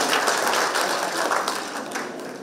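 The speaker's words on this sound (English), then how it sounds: "Give yourself a big round of applause and have a seat." An audience at a talk breaks into dense, continuous clapping that holds steady and stays close and loud throughout.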